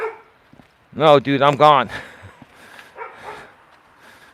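A dog lets out a few loud, close barks in quick succession, followed by someone talking.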